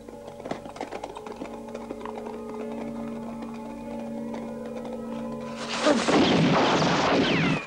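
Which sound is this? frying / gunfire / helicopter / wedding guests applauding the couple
gunfire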